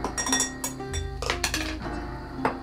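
Solid paraffin being measured into a small pan while making a hydrating skin cream, heard as close clinks, taps and scrapes of the pan and utensils in an irregular rhythm, with no talking.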